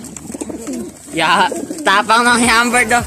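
Racing pigeons cooing and calling close by, a few throaty bursts over a short span, with someone speaking in Tagalog alongside them.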